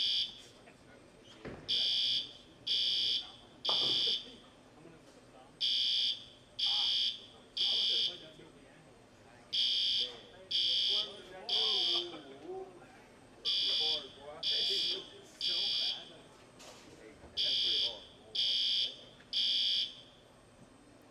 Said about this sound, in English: You don't know how long this alarm's going to go off.